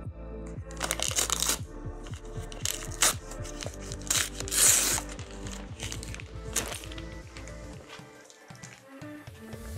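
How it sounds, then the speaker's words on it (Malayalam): Packaging for a JBL Flip 6 Bluetooth speaker is opened by hand, with close, quiet crinkling, rubbing and tearing of cardboard and plastic in irregular bursts, some faint clicks and brief pauses. "ഇനി ജസ്റ്റ് ഒന്ന് നമുക്ക് അൺബോക്സ് ചെയ്ത് നോക്കാം"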